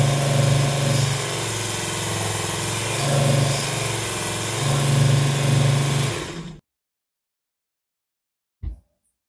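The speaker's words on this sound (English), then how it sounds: "I'm going to do that again on my little electric sander" A small electric sander flattens the end of a sarkanda reed waggler float, running with a loud, steady buzz that rises and dips in pressure before cutting off into silence, followed by one brief thump.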